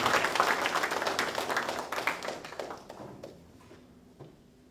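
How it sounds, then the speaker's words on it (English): Audience applause at a hockey awards ceremony rises as a moderately close patter of clapping, then gradually fades away into near quiet over a few seconds. "A round of applause even as he comes, ladies and gentlemen."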